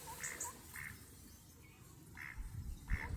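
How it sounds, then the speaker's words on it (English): Ducks quack in short bursts across a carp fishing lake, several calls spaced out at moderate distance over faint outdoor background noise, with no talk. "Ducks actually don't seem to be too scared of the carp in here."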